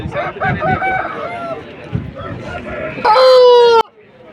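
A young rooster, about a year and a half old, crows loudly and close at a busy poultry market in Vijayawada, rising over a steady murmur of voices and clucking fowl.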